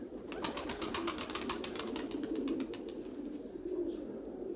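A pigeon arriving and trying to land flaps its wings in a quick run of beats, with soft cooing underneath and a low background murmur.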